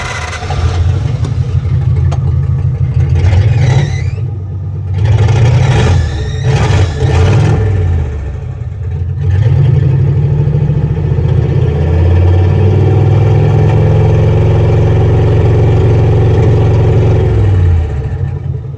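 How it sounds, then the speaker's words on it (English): A Flathead V8 engine revs up in several rising bursts, drops back between them, then holds a longer rev before falling to a steady idle, all loud and close with no talk. "See there, I can rev it up, and now it comes right back to idle."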